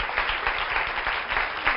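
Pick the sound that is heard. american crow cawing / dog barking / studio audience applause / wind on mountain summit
studio audience applause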